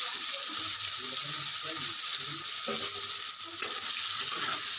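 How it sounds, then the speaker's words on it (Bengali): Eggplant pieces fry in hot oil, giving a steady, close, loud sizzle with occasional stirring clatter throughout, with no voices. "বেগুনগুলো ভাজা ভাজা করে নেব"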